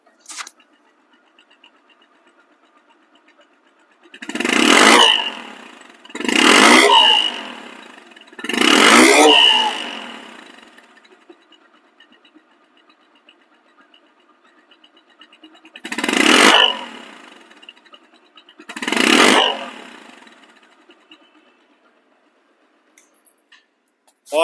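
A second-hand motorcycle in showroom condition idles quietly, then its engine is revved in five loud, separate bursts, three close together and two more after a pause, with no talk.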